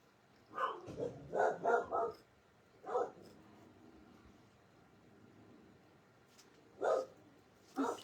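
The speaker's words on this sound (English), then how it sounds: "got that raspy bark" A dog gives a raspy bark in a burst of five quick barks, then a lone bark, then two more after a pause, fairly close and moderately loud over quiet indoor background.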